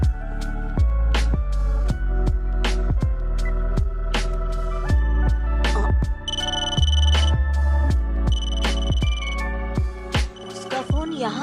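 A phone ringtone plays a repeating electronic melody of bright, bell-like tones, loud and close, with brief higher chirping passages in the middle.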